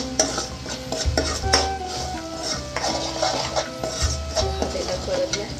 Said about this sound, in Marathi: आपण परत चांगला मसाला तेलात परतून घेऊया